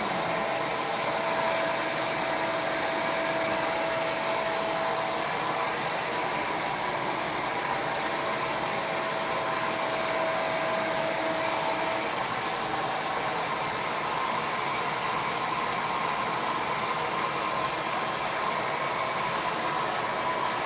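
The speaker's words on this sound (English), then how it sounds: "Somebody's gonna use a dryer, so you're gonna hear a little noise for a little bit." A hair dryer blows steadily for the whole stretch, a constant loud whooshing hum with a faint whine, no voices.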